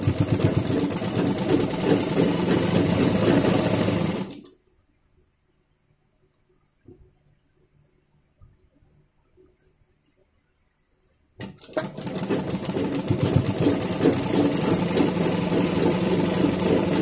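A sewing machine runs steadily while stitching the side seam of a blouse, a loud close motor whir with rapid stitching rhythm, stopping for several seconds of near silence before resuming just as strongly.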